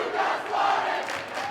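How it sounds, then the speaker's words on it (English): A student cheer section at a boys high school basketball game roars after a blocked shot, a sustained loud crowd cheer with shouting voices swelling and holding across the moment. "the Luers cheer section letting Gutierrez know that he got swatted"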